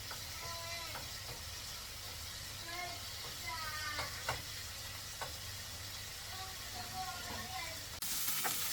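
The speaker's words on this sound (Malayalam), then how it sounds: "ചിക്കൻ ചെറുതായിട്ട് മസാല പട്ടിയസിലായിരുന്നു എനിക്ക് ഇതെടുത്തിട്ട് നമ്മളത് പാനിലേക്ക് വെച്ച് കൊടുത്തു പിന്നെ ചെറിയ ഫ്ലെയിമിൽ നമ്മളത് കുക്ക് ചെയ്തെടുക്കുകയാണ് ചെയ്തത്" Chicken pieces fry in coconut oil in a pan over a low flame, giving a steady low sizzle throughout with occasional sharper crackles and pops.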